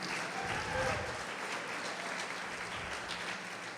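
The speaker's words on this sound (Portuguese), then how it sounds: "quantos podem aplaudir o Senhor Jesus por isso?" Congregation applause during a church sermon, a continuous soft wash of many hands clapping heard at a distance, fairly faint and even throughout with faint voices underneath.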